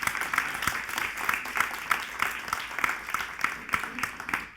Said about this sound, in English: Can everyone give Ed a round of applause?